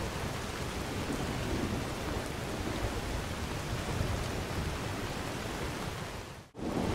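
Heavy in-game rain in Skyrim pours as a dense, even wash of noise with a low rumbling undertone, close and steady throughout, then cuts out abruptly for a split second near the end before resuming.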